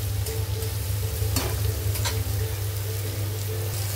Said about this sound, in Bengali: পনিরটা হালকা হাতে নাড়াচাড়া করবো যাতে পনিরটা ভেঙে না যায়